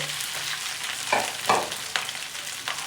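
Cooked rice, four cups of it, frying in oil left from fried dried fish, with garlic added to the pan, giving a steady sizzle broken by a few sharp stirring scrapes.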